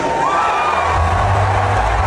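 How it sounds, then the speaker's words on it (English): A large audience at an Alex Jones event roars as he comes on stage, a dense, loud wash of cheering and shouting with no break, close and filling the room. "Thunderous applause."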